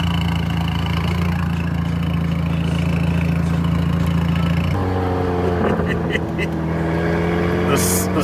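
A 1991 Yugo GV Plus with a side-pipe exhaust and a rubbing wheel drones loudly and steadily as it corners, the engine pitch shifting about midway through.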